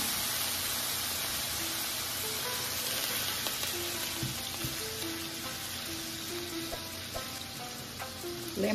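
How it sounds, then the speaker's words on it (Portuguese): Shrimp fry in olive oil in a hot pan, a loud, continuous sizzle close by with light crackles and a few scraping stirs, and no one speaking over it. "vamos colocar azeite na panela e vamos colocar o nosso camarão"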